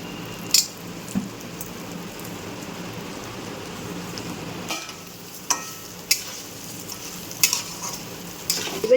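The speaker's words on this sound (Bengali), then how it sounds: "এবার আমি মেখে রাখা চালটা এর মধ্যে দিয়ে দেবো" Soaked rice fries in ghee with whole spices in a pan, a steady close sizzle with occasional sharp scrapes and taps of a stirring spoon against the metal.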